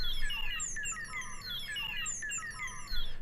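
LEGO Super Mario figure playing its poisoned and stunned effect, a fast, warbling chirp pattern that repeats in a loop over a faint electronic hiss, at moderate volume.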